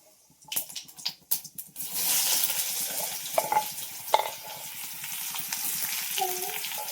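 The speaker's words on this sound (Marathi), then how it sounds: "कांदा चांगला भाजून घेऊन आला." Chopped onion frying in a pan: a few sharp clattering knocks, then a steady, close, crackling sizzle that runs to the end with occasional louder pops.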